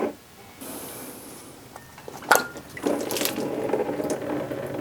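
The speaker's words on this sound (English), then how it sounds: "Coolant everywhere, all over me." Coolant spraying out of a blown-up Chevy Cruze engine during a teardown, a hissing sputter broken by a sharp clank, followed by a sustained wet gush of fluid splashing close by.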